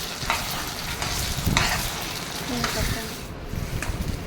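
Ground batter for uppu urundai is stirred and mixed in a hot kadai, producing a dense sizzle with rough scraping strokes and a few louder swishes over a few seconds.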